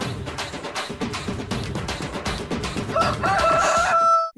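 A rooster crows loudly near the end, its drawn-out harmonic call rising over a dense, busy background that fills the whole stretch.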